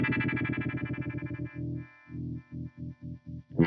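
Short guitar notes pulse through a harmonic tremolo pedal set to a steep crossover slope with a deep mid scoop. Long rhythmic throbs fade to fewer, choppier swells, and no one speaks.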